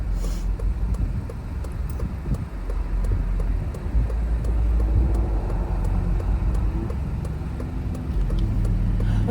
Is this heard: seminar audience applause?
no